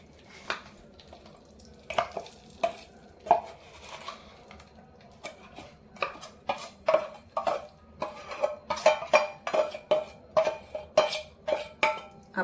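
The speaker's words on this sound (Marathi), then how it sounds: "परत त्याला तुपात टाकून थोडीशी परतून घेते" Soaked fenugreek being sautéed in ghee in a pan, heard as rhythmic scraping and clinking strokes of a spoon against the pan, speeding up into a steady, close-up beat.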